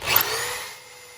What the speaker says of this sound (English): Now I can drill my pocket holes.